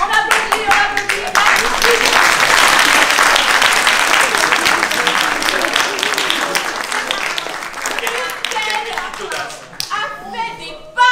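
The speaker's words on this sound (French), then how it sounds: "On applaudit, on applaudit." Loud, sustained applause from a theatre audience at a performance of Molière's Les Précieuses ridicules, a thick wash of clapping that swells and slowly thins toward the end, with voices heard before and after.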